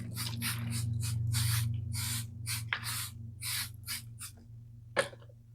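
Vinegar is sprayed onto seasoned ribs in a series of short, hissing spray bursts of uneven length, close and fairly quiet, over a steady low hum, with no talk.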